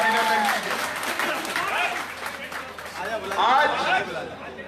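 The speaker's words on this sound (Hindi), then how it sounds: "जरा जोरदार ताली बजाकर स्वागत कीजिए, अभिनंदन कीजिए" An audience at a political rally applauds to welcome Union minister Narendra Singh Tomar. Loud, continuous clapping mixes with crowd chatter while a voice speaks over it.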